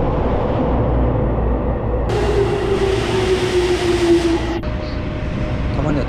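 A rushing roar of a Chiyoda Line subway train builds, with a high metallic whine of wheels and brakes and strong wind, over a constant rumble of station noise.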